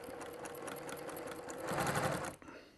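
A sewing machine stitching a fur and flannel throw hums in a fast steady run, close and continuous, swelling slightly louder before stopping abruptly near the end.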